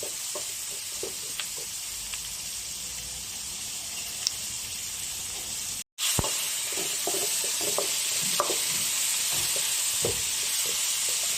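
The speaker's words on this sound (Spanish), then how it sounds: "Le vamos dando vuelta, que se vaya friendo, sofriendo, ¿no?" Ají peppers sautéing in a pan, a steady loud sizzle with scattered spatters and the scrape of stirring, broken by one brief silent gap midway.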